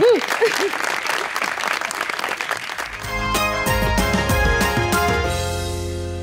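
Studio audience applause on a talk show: a voice sings and speaks at first, then a dense burst of clapping swells in, joined by bright music stings, loud and sustained to the end.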